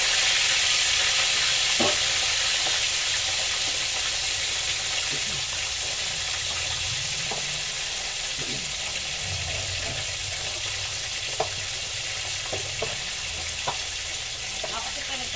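Matambaka fish sizzles and crackles steadily in a hot pan, a constant frying hiss with occasional clinks and stirring sounds, no talking.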